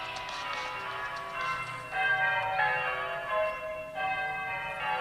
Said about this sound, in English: And to the church bells.